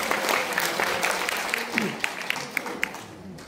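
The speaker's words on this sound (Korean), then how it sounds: "큰 박수로 맞이해 주십시오." Applause at a parliamentary policy forum on barefoot walking: a crowd claps steadily, then thins to a few louder scattered claps near the end, with some voices under it.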